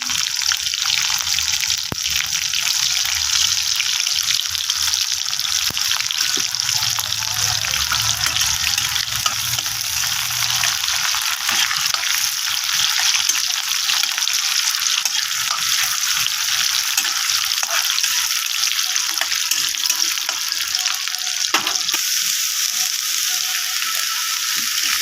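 Chopped garlic, four green chilies and an onion sizzle in hot oil as a tempering for fried potatoes, a loud, continuous crackling hiss close up with a few faint clinks.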